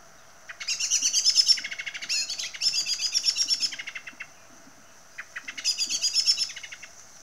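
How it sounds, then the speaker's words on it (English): Common blackbird sounding its alarm call: three bursts of rapid, loud, close chattering notes, each lasting about a second and separated by short pauses, with no other sound around them. "The real thing to learn about the blackbird call is its alarm."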